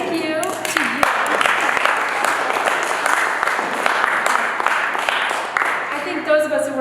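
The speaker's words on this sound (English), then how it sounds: "now, first of all, you can give yourselves applause" Audience applause at a Vermont housing panel, a sustained wash of many hands clapping at moderate loudness, with voices mixed in and a speaker's voice coming through near the end.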